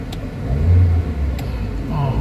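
A Toyota Avanza with low power, delayed throttle response, weak pulling on climbs and vibration revs close by, its low engine rumble swelling briefly and then settling, while someone talks over it.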